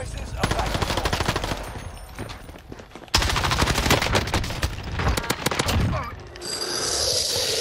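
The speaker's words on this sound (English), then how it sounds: "We're taking fire." Call of Duty Warzone gunfire on Rebirth Island, with rapid bursts of automatic fire from a FARA 83 and other weapons crackling loudly and continuously, and louder volleys mid-clip amid game noise.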